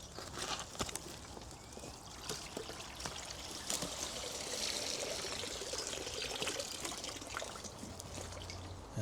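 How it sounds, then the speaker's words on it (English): A pond pump of over ten years' service being lifted out of a garden pond, water pouring and trickling off it in a continuous splashing stream with scattered drips and small knocks, fairly close. "So I'm going to pull up that pond pump."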